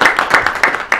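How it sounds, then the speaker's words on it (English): Audience applause at a political event honoring first-term re-elect candidates, a steady patter of clapping hands with rhythmic surges, fairly close and loud, no speech over it. "a round of applause for"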